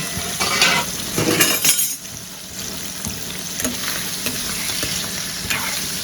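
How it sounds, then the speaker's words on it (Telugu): Mutton liver frying in oil, a steady loud sizzle with spatula stirring and scraping bursts early on, close to the pan with no talking. "ఇప్పుడు లివర్ ఫ్రై అయితే స్టార్ట్ చేసేద్దాం"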